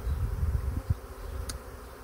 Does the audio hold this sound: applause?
no